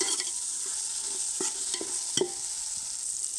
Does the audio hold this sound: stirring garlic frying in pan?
yes